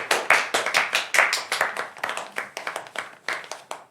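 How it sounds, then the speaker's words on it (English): An audience on an episode of a talk show applauds a guest, with close, crisp hand claps building in quick, uneven bursts for about four seconds and no talking over it. "a big round of applause for our guest, Eddie."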